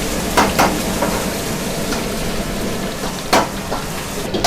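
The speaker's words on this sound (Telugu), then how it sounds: "సో డీప్ ఫ్రై చేసిన కలమరీ ఇలా చేస్తారనమాట." Squid calamari deep-frying in hot oil at a London roadside stall gives a continuous sizzle and hiss, broken by a few louder crackling bursts, close and fairly loud.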